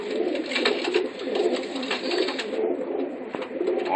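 A young slate pigeon coos in soft, rolling, repeated calls, close and continuous over a faint background hum, with no one talking.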